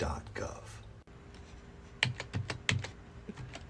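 Fingers type on a computer keyboard in short bursts of crisp clicks, a few isolated taps followed by a quicker run of keystrokes, close and fairly quiet, with a voice speaking around them.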